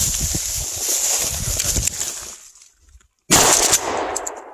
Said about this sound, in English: I shot and I expected to shoot another again without ejecting a shell.